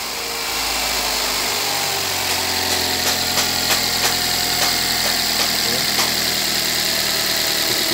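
A Daihatsu Luxio Type X van engine cranks briefly, then settles into a steady, loud idle with a constant low rumble and rattly vibration close by.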